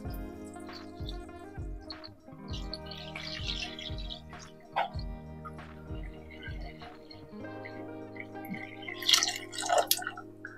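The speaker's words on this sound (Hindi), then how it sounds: "यहाँ पर पानी को मैं डालता हूँ" Water pours and splashes into a container holding a Redmi 13 5G phone, a trickling, dripping flow with scattered bright splashes over a low steady hum.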